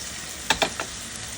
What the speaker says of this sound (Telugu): 1/2 టీ స్పూన్ ధనియాలు, 1/2 టీ స్పూన్ మెంతులు, 1/2 టీ స్పూన్ జీలకర్ర, ఇవన్నీ కూడా మంచిగా దోరగా వేయించుకోవాలి